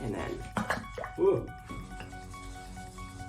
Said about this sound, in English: we mix and mix and mix to get all of that paint off the brush